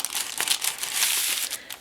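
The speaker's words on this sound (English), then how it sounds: "Other side of the parchment paper." Parchment paper crinkles and rustles close up as it is handled while making a craft journal. The crackling goes on without a break for nearly two seconds, with small sharp crackles in it, and no one speaks.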